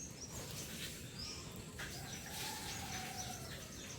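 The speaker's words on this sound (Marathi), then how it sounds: "पक्ष्यांचा आवाज" Birds chirping on a quiet Konkan morning, sparrows among them, with a few short, thin tweets and one longer call scattered over a soft, hushed background, moderately distant.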